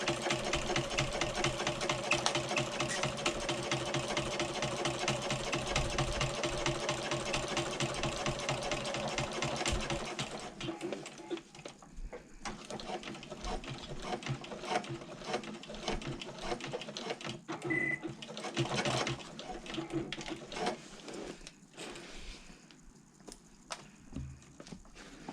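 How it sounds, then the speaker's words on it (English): A sewing machine stitches steadily around the top of a bag liner, a loud continuous whir for the first ten seconds, then shorter stop-start runs of stitching with pauses. "I have sewn all the way around the top of the bag"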